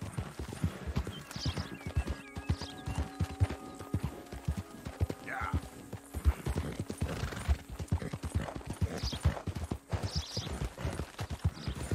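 Horse hooves clip-clopping steadily on a trail in the video game Red Dead Redemption 2, a continuous rhythmic patter up close, with an occasional snort or whinny and faint ambient game sounds around it.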